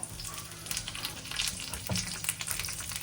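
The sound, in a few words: curry leaves sizzling in hot oil on a griddle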